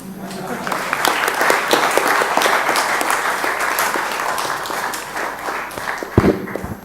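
A conference audience claps loudly and continuously in a dense, even burst of applause that holds for most of the stretch and tapers slightly near the end.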